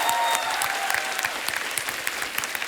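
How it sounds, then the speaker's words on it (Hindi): A studio audience claps warmly on The Kapil Sharma Show, a steady mid-level burst of applause with some distinct individual claps, fading slightly toward the end. "जोरदार तालियां यार"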